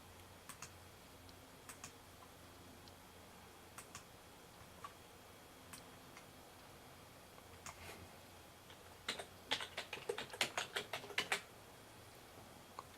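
Someone types a command on a Windows computer keyboard, with sparse single key taps early on and then a quick burst of clustered keystrokes near the end, close and quiet in a still room.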